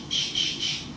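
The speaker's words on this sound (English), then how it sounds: "Sorry, those were my birds." Pet birds let out three quick, shrill squawks in a row, loud and close, over a noisy indoor background.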